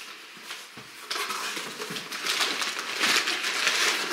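Close crinkling and rustling of plastic wrapping, crackling steadily and growing louder and denser over a few seconds.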